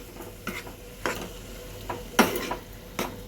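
A spoon scrapes and stirs vegetable oats khichuri, made without dal, in a pot: a handful of separate, moderately loud strokes spaced about half a second apart, with no one talking.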